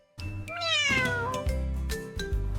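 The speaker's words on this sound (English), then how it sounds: "C is for cat." A cat gives one long, clear, drawn-out meow that bends in pitch, close and loud, with soft background tones underneath.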